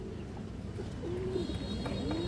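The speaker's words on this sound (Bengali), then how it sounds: "এটা খুবই সুন্দর মাদি কবুতর" A female pigeon coos in low, wavering notes against steady background noise, the call rising and falling several times over about two seconds at moderate distance.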